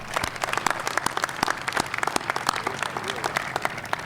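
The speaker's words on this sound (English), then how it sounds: "So please join me in a round of applause for Jenny." An audience at an Atlanta public safety training center ribbon-cutting ceremony applauds for an honored woman, with sharp individual claps standing out over a steady crowd patter for several seconds, moderately distant.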